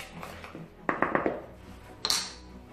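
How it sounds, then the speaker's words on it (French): Dry ingredients, powdered sugar and vanilla sugar, stirred in a bowl with a wooden spoon for Easter biscuits: a few quick close knocks and scrapes against the bowl, then one more scrape after a short pause. "Donc je mélange à l'aide d'une cuillère en bois."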